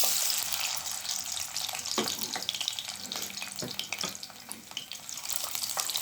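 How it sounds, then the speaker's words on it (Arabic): Sheep tail fat melts in hot oil in a pan, giving a steady, close sizzle and crackle with occasional sharper pops throughout, alone without talk. "الاول هنزل بالزيت في طاسة تكون سخنة. ننزل بالزيت وانزل معايا بالليا"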